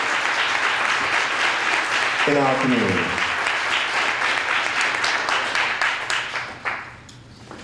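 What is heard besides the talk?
audience applause at awards ceremony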